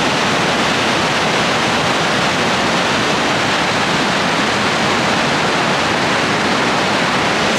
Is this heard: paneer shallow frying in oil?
no